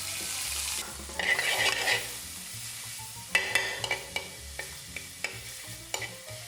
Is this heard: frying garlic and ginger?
yes